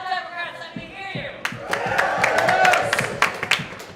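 Democratic state convention crowd in Vermont responding to a call to stomp and clap, with loud, swelling cheers and yells over scattered claps and thumps, all close and dense.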